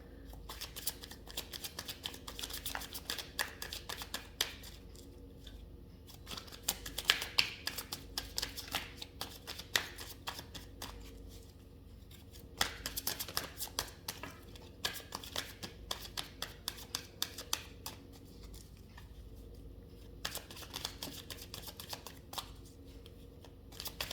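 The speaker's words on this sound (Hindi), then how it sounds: "I won't be able to stop the shuffling." Tarot cards shuffled by hand in a quiet room, a steady run of crisp riffling and slapping bursts repeating throughout with no talking.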